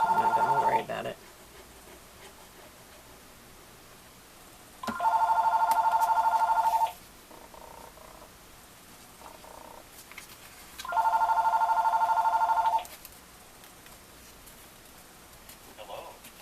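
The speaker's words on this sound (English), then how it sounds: "I'm just going to let it ring because I forgot to turn the phone off before I started the video" A home telephone rings in a quiet room during a craft session, sounding in two long electronic ring bursts several seconds apart, fairly loud and close, with a brief tone at the very start.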